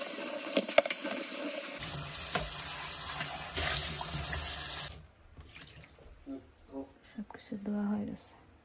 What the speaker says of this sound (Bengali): রান্না বান্না শেষ করলাম, এখন হচ্ছে এগুলা ধুবো।